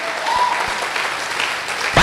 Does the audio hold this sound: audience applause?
yes